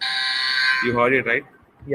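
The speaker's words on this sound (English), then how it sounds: "I will be pressing the buzzer, which will sound like this." A presentation timer buzzer gives one loud, harsh, sustained buzz for nearly a second, then someone briefly speaks.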